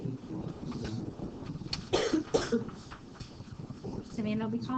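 A woman recovering from a cold coughs a few times, short harsh bursts close by, mixed in with ongoing talk.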